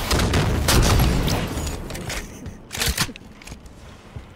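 Gunfire in a video game lands a headshot, sharp bursts of shots and impacts early on, then fainter scattered cracks with a voice talking underneath.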